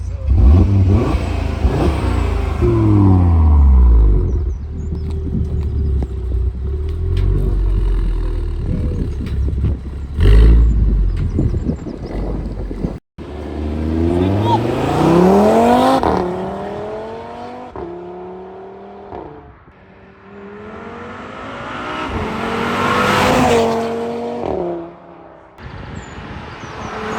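A grey 2018 Audi RS3 8V with its five-cylinder engine revving hard and pulling through the gears, loud roaring acceleration with a short gap and rising pitch sweeps, with a voice heard faintly underneath.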